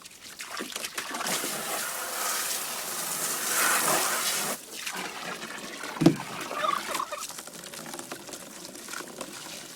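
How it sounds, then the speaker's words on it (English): Water pours and trickles into a container for ducks, the rushing swelling and easing, with a brief clunk partway through and faint background sounds. "I'm going to go ahead and get the ducks' water filled up too"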